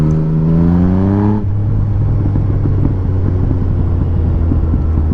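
A Yamaha MT-09 (FZ-09) second-generation motorcycle engine pulls hard in fourth gear: a loud, close, rising engine whine climbs for about a second and a half, then drops into a steady deep rumble as the throttle eases.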